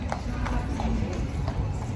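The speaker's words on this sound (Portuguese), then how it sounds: "Cavalo." Horse hooves clip-clopping on pavement in a town square, a quick even run of hoof beats, fairly close and steady, amid outdoor background noise.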